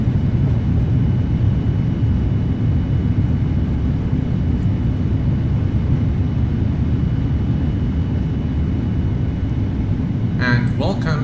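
Thrust reversers on a Boeing 787 roar after touchdown in a Prepar3D flight simulator landing, a steady, loud, low rumble that holds unbroken for the whole stretch, with a faint brief sound right at the close.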